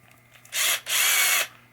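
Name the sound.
drill with 4-inch polishing adapter polishing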